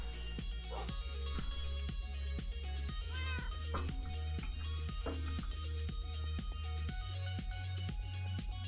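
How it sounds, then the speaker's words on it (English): A Siamese cat meows outside, several distinct meows scattered over a steady background of game music and clicks, with no talk. "I hear the kitty cat. Oh, they're outside. Nice. Oh, it's the Siamese."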